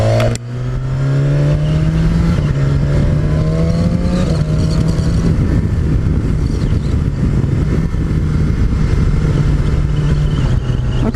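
A BMW S1000XR motorcycle revs and accelerates up through the gears, its engine loud and close with a steady rising whine and brief dips at each shift, no voices over it.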